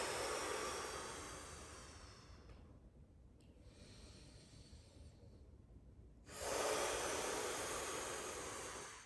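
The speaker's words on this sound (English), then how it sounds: "Exhale all your air out" A forceful exhale during a 90/90 knee-roll stretch twist, a long breathy hiss of air pushed out steadily, fading slightly, then a short quiet gap before another strong breath starts.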